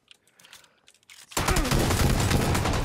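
Rapid automatic gunfire in PlayerUnknown's Battlegrounds erupts after a second of quiet shuffling, a loud continuous burst of shots running to the end.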